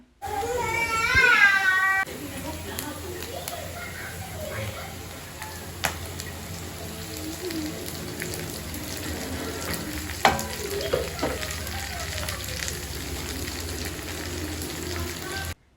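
Onions and eggplant fry in oil in a pan, a steady bright sizzle running throughout with occasional clinks and stirring knocks, and a brief louder burst near the start.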